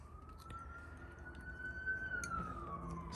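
Police sirens wail faintly in the distance, one long rising and falling tone over a quiet indoor background.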